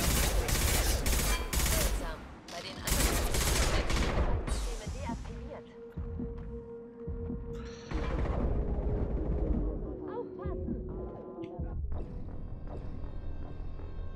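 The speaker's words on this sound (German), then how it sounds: "wo auch immer der Schuss herkam" Rapid bursts of gunfire crackle loudly at first, then a sustained electronic hum and scattered clicks follow, combat sounds from Mass Effect 2 Legendary Edition.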